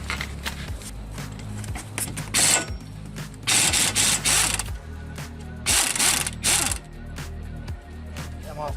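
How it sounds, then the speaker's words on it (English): An impact wrench loosens a 17mm nut on a 2004 Hyundai Santa Fe wheel, firing in three loud, close rattling bursts separated by brief pauses and quieter clicking. "I'm going to use my impact on this"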